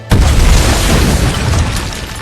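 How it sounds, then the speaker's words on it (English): A loud, sustained explosion roars with deep rumbling low end, holding steady for a couple of seconds before slowly easing off. "an explosion tore through the street"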